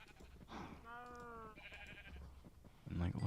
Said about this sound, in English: Let's feed our cows a little bit more before we go.